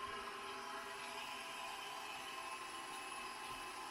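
An electric mixer whisks egg yolks into chocolate mousse with a continuous steady motor whir held close and level, no voices over it.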